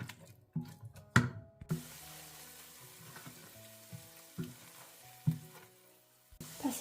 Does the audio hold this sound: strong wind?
no